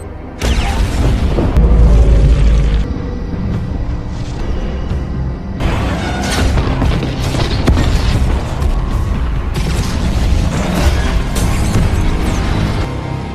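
Explosions in an action film: heavy, loud booms and blasts with deep rumbling low end, repeated bursts filling the whole stretch with no speech.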